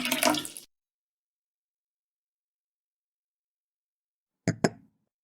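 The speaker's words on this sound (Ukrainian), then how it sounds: "наливаємо в нього воду та опускаємо у кристалізатор" Water poured into a glass cylinder for a chemistry demonstration, a short splashy trickle at the start, then silence, then two quick clinks and a splash of glass and water.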